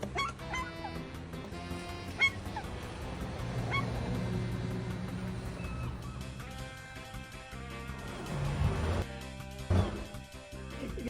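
A seagull at mating season gives loud honking calls near a home, a few bursts spread across the stretch with quieter gaps and background noise between them.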